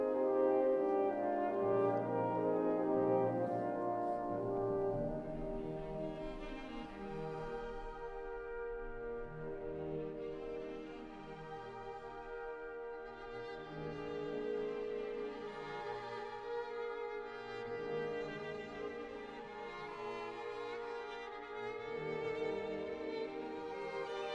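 Soft, slow orchestral music, the Nocturne, with sustained strings and gentle melodic lines, played quietly throughout with no talking.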